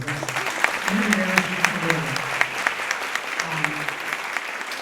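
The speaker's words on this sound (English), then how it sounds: "So you're more than welcome to clap." A room full of people claps steadily for Heather, the organization's president, with a voice talking over the clapping throughout.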